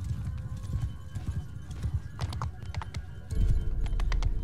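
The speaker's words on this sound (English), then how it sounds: "Yeah, that's a lot of horse archers." In the video game Mount & Blade II: Bannerlord, hooves clatter in a rapid, continuous clip-clop of many horse archers galloping, with a deeper rumble swelling in near the end.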